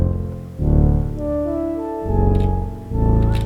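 Sustained synth bass notes from a Waldorf M6 synthesizer in an electronic track, a few held tones changing pitch with deep low end and soft upper harmonics, played alone without talk.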